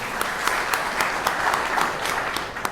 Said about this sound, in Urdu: اس کے لیے تالیاں ہونی چاہیے سب سے پہلے